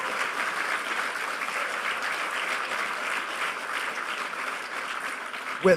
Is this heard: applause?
yes